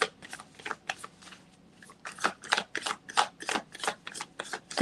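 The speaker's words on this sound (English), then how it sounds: "I'm going to make sure to shuffle this really good" A deck of playing cards being shuffled repeatedly, close up, in quick riffling bursts with brief pauses between them.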